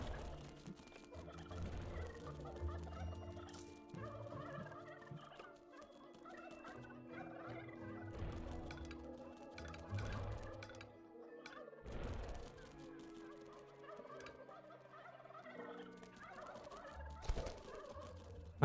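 Poultry gobbling and clucking in the game Dungeons 3, repeated calls over game sounds, moderately loud throughout with occasional crashes.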